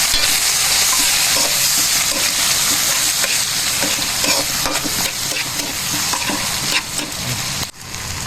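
Aromatics hiss and sizzle hard in a hot pan while being stirred, a loud, dense, continuous frying noise close up with no voices.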